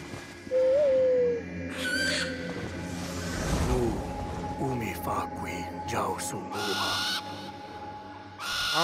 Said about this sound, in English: Got me a little owl.